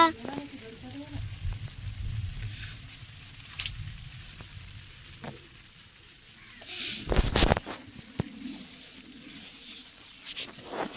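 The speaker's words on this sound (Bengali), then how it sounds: "এখন খুব জোর বৃষ্টি হচ্ছে" Heavy rain falls on an early-winter evening near an outdoor kitchen, a steady low hiss of downpour running throughout with a louder rush partway in, while someone talks over it.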